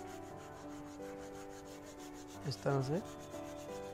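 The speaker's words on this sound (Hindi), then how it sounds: "इसके ऊपर हमें रेगमाल लगाना है, 80 नंबर या 60 नंबर का पट्टे वाला रेगमाल" Coarse 80 or 60 grit strip sandpaper rubbing over teak wood in a steady, continuous scrape, with a brief spoken phrase near the end.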